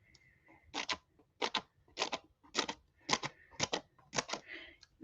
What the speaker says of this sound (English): Oh, these I'm going to cut apart.